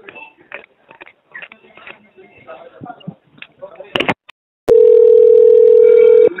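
Telephone call to a police station: muffled talk and handling noises, then a sudden steady dial tone rings out loud and unbroken for nearly two seconds.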